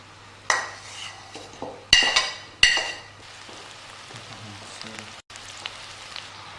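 Finely chopped garlic, about a bulb and a half, added to a curry pot for tikka masala, heard as a few bright metallic clinks and scrapes of a utensil on the pot, then a soft steady sizzle.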